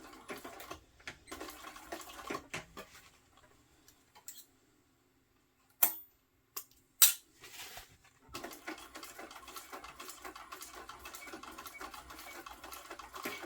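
Sewing machine stitching a crossbody bag seam, running in bursts of rapid ticking stitches broken by pauses and a few sharp clicks, quiet and close with no talk.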